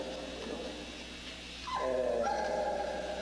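A Dogue de Bordeaux at a dog show whimpers with a rising, high-pitched whine that turns into sustained yelping cries, heard at moderate distance over steady crowd and room noise.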